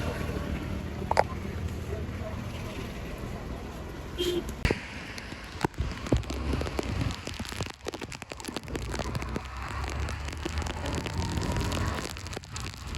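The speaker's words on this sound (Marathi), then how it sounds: "आला ना पाऊस सुरू" Rain falls near Khopoli on the way to Lonavla as a steady, dense hiss for the whole stretch. Occasional sharper knocks and taps stand out over the wash.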